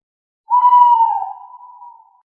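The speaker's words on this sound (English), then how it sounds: "Owl says," An owl gives one drawn-out, clear hoot lasting about two seconds. It is fairly loud and close, steady in pitch, then fades gently, with nothing else heard.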